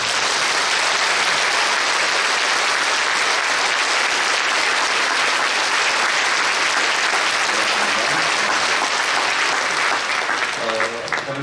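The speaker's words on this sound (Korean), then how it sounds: "이분들 일어서실 때 큰 박수로 환영해 주십시오." A church congregation gives loud, steady applause welcoming Japanese guests at a national liberation anniversary service in Korea, a continuous roar of clapping from a large crowd that carries on throughout, with a voice emerging near the end.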